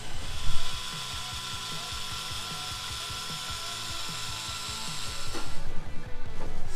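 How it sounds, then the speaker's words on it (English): Power drill boring through a bolt joining a Subaru boxer diesel engine to its gearbox, a steady close grinding whir with rhythmic chatter that grows rougher and louder near the end. "drill the hole through almost through the whole entire bolt"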